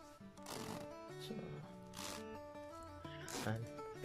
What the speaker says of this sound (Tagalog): plastic ang zipper.